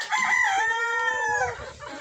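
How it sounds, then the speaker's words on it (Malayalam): A rooster crows loudly and close by at a farm and nursery where cockerels are raised for market, one long drawn-out call with faint clucking and other fowl beneath it. "അപ്പോൾ നമ്മളെ പൂവൻ കോഴികളാണ്."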